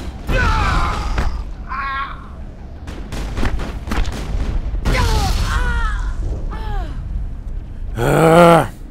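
Grenade blasts and combat in the Mass Effect video game, a series of booming impacts and mechanical clanks amid battle noise, with someone shouting and grunting between them and a loud burst near the end.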